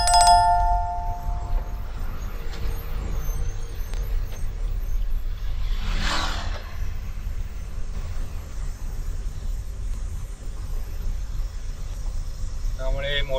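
Heavy trucks travelling on the Mumbai-Goa highway (NH66) give a continuous low engine rumble, with one vehicle passing closer and louder near the middle and brief tonal horn-like notes at the start and end.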